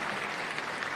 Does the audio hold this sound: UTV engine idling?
no